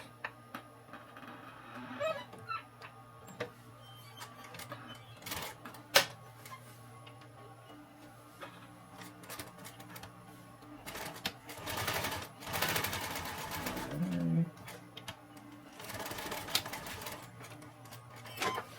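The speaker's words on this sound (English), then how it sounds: "I'm going to go ahead and stitch these sides onto each other real quick" A sewing machine runs in short quiet bursts of rapid ticking stitches while seaming the sides of a simple homemade backpack, with pauses and small handling clatter in between.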